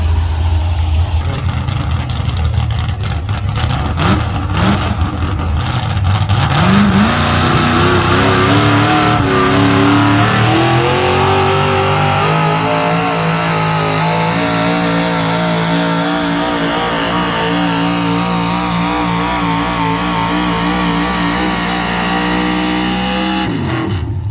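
A mini-mod pulling tractor engine at a tractor pull competition roars loudly through a sustained pull, revving higher and holding a strained, rising drone for over twenty seconds, with no voices.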